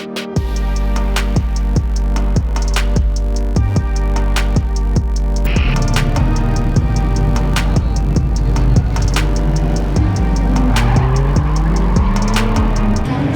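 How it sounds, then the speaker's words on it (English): A Lexus GS300 with a 2JZ engine drifts at a track in Houston, revving hard in repeated loud pulls as its tires squeal and skid in long wailing bursts, close and continuous. "Now it's time to go drifting."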